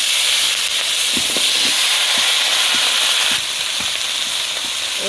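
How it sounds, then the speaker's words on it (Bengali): Vegetables drop into hot oil in a home kitchen and set off a loud, continuous sizzle and hiss, with a few light clinks and stirring knocks scattered through it and no voices. "তেলটা গরম হয়ে গেছে আমি সবজিগুলো দিয়ে দিলাম"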